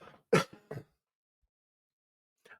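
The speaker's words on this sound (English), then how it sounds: "Let me clear my throat." A person clears their throat with two or three quick rough rasps close to the microphone, followed by silence and a faint trailing sound.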